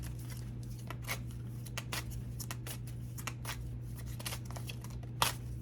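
Tarot cards are shuffled and drawn by hand, giving a run of soft, quick flicks and riffles with one sharper snap near the end, all over a steady low hum.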